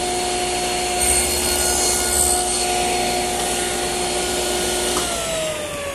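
Table saw cutting a wooden coffee table part guided by a miter gauge, a loud steady whine with a brief deeper grind as the blade passes through the wood, then the tone drops as the cut finishes.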